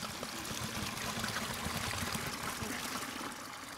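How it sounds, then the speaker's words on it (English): Hot water emptied from a flask into a bucket, a steady faint pouring trickle that runs unbroken for a few seconds. "we are going to empty the hot water that's in them into this bucket right here"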